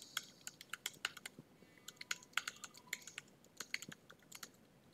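Typing an email address on a computer keyboard, a quick irregular run of crisp close key clicks with short pauses between bursts, no voices.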